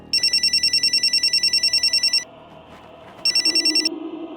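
A telephone bell rings in two bursts of rapid trilling, a long ring then a shorter one after a pause, loud and close, with faint background noise.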